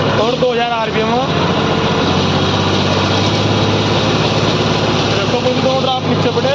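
A John Deere 5210 tractor engine runs steadily at high revs in low gear, pulling a 7-foot Landforce rotavator through soil, a loud continuous droning hum with no break.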